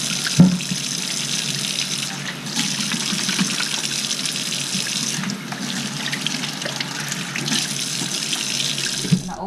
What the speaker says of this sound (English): the first thing we're gonna do is wash our hands